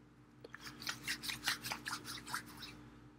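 Soft, close rubbing and scratching as Artius Man Orange Grove beard balm is worked into a beard, a series of faint brushing strokes in an irregular rhythm with no talking.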